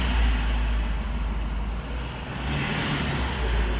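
A Bentley Bentayga's engine rumbles deeply as it rolls in close by, a steady low growl that swells slightly toward the end.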